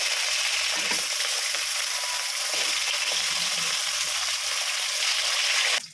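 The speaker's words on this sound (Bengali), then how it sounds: "তেলটা আমার গরম হয়ে গেছে, এর করে মাছ দিয়ে দিচ্ছি" Fish frying in hot oil left over from frying pointed gourd, a loud, steady crackling sizzle that runs continuously and cuts off abruptly at the end.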